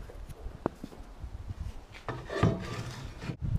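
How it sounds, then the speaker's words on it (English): Hand filing of a fitted wheel part for a steel sailboat's mast sheave, with butcher board nearby; close, irregular rasping and rubbing strokes with a few knocks, no talk. "A lot of filing later."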